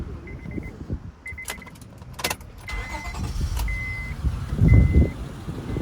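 A warm 2004 Honda Accord is started up close: a few steady electronic chimes sound first, then a low engine rumble builds near the end as it settles toward idle.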